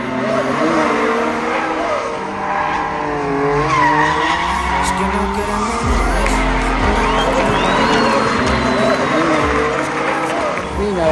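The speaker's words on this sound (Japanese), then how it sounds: "それではエルサルバドルドリフトのイベントです" Toyota cars drift at a judged event in El Salvador, with loud sustained tire squeal and skidding over engine roar. A crowd can be heard in the background, and an announcer talks throughout.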